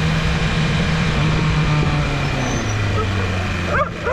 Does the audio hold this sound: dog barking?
yes